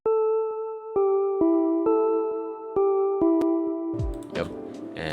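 Purple Lullaby, a synth preset from Flex, plays a soft, mellow melody of sustained bell-like notes in an even rhythm, with a denser, noisier layer of sound joining near the end.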